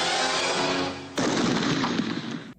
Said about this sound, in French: coup de feu, et la musique s'arrête.